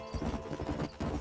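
Horse hooves clip-clop at a steady trotting rhythm in the Western video game Red Dead Redemption on PC, a close repeated thudding over a constant background bed.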